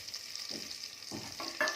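Onions hit a hot pan for coconut milk rice, frying with a steady soft sizzle while a spoon stirs them, a few scraping bursts rising near the end.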